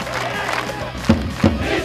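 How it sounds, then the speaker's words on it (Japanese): Tokushima Vortis supporters at Pocari Sweat Stadium in Naruto, Tokushima, roar in a sustained crowd din after a dramatic late equaliser against Cerezo Osaka in a 2009 J2 league match, with two brief louder shouts rising out of the steady noise. "劇的な幕切れにサポーターの歓声は鳴りやみませんでした。"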